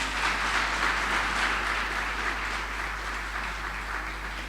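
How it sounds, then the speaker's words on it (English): A church congregation clapping during a Sunday service, a dense, sustained wash of applause that fades slightly toward the end, with no speech over it. "I think we can clap one more time."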